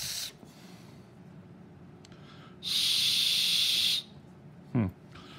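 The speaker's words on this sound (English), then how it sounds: "if I'm just blowing in this whistle hole right here." A single breathy blast of about a second and a half on a plastic whistle from a Harbor Freight Gordon survival kit, close and loud. It comes out as a rushing hiss rather than a clean pitched tone, with quiet room noise before and after.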